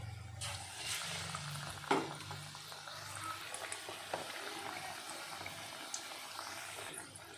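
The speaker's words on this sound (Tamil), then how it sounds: "இப்போ இந்த மிளகாவை இந்த மாதிரி நல்லா டிப் பண்ணி ஆயிலில் போட்டு ஃப்ரை பண்ணி எடுத்துக்கலாம்" Batter-dipped chillies for chilli bajji frying in hot oil, giving a steady soft sizzle and bubbling with a few faint clinks, quiet and close, no voices.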